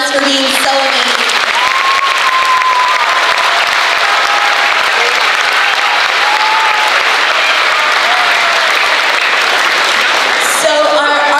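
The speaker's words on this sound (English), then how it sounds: "please give yourselves, veterans, students, everybody a round of applause for being so amazing" A school honors-program audience of veterans and students gives sustained, loud applause, with a few whistles or cheers rising above the crowd noise throughout.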